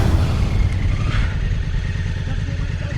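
A Honda Africa Twin motorcycle engine under throttle on slippery ground, a steady, loud, close mid-pitched drone that holds for three seconds with slight surges.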